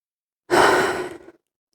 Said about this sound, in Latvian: Ielpa un izelpa caur degunu.